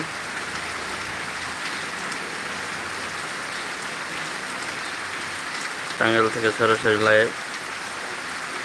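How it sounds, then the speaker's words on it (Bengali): Heavy rain pours down in Tangail as a steady, dense hiss throughout, with a voice briefly speaking over it near the end. "টাঙ্গাইলে প্রচুর বৃষ্টি হচ্ছে"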